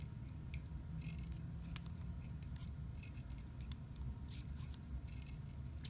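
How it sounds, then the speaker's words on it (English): Snips cut paper flower petals, with faint, quiet crisp snipping clicks scattered irregularly over several seconds against a low background hum. "I'm going to take my snips again, cut in towards the pollen"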